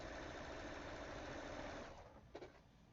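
A sewing machine stitches quilt pieces down the middle of a seam, running as a steady, close mechanical whir for about two seconds before slowing and stopping, with a small clack at the end.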